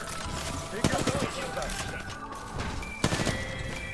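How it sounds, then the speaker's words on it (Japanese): Bursts of gunfire crackle twice amid busy action in Apex Legends, with quick footstep-like thuds and a voice talking underneath. "銃声と足音がめっちゃ多い。"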